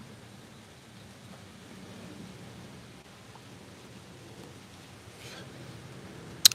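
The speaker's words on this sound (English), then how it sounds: "that rain goes sideways out here" Steady outdoor rain hisses as a soft, even wash with no talk, with a faint sharp tap near the end.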